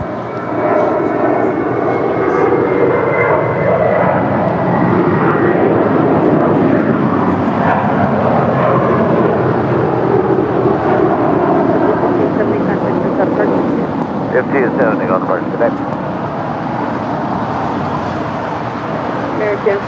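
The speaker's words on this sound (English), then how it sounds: "It's an 18-year-old Airbus A320, JetBlue Airways Flight 1570." An 18-year-old JetBlue Airways Airbus A320 departing, its jet engines a loud, continuous broadband roar that shifts in pitch as it passes, with faint traffic noise behind.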